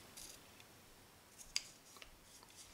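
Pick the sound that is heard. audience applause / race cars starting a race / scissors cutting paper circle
scissors cutting paper circle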